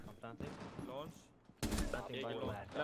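Rapid video game gunfire sprays out as a continuous burst from a single 19-round magazine without a reload, loud and dense, with someone talking over the start.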